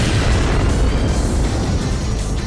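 In the video game Stretch Panic, an explosion goes off as a loud, dense, sustained boom that fills the whole stretch with rumbling noise.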